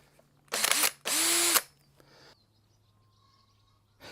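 A drill with a 25mm hole cutter bores into the roof of a VW Crafter van in two short, loud bursts, followed by quiet mechanical clicks and faint background sound.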